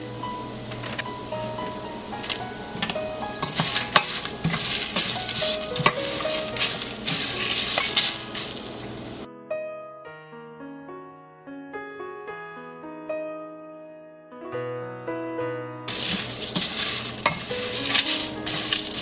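Spices and curry leaves being stirred and dry-roasted in a pan on low heat, a steady scraping sizzle, with a stretch of soft background music cutting in at the middle.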